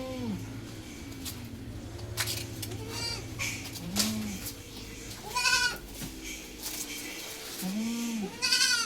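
Hyderabadi cross-breed goat kids offered for sale bleat several times in short, wavering cries at moderate distance, with faint bird chirps and soft background noise between calls.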